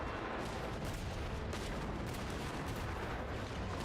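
Dense, continuous gunfire from a weapon shot at the ground in Genshin Impact, a steady rapid barrage with heavy muzzle blasts filling the whole stretch without pause.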